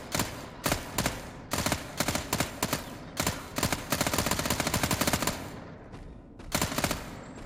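Gunfire in the Fear the Night video game as enemies are shot, loud close bursts of rapid automatic fire broken by short pauses, with a final short burst after a brief lull.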